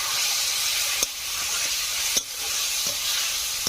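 Ground spices sizzling in a pan with a little water just added, a steady close hiss and crackle broken by a few soft stirring knocks.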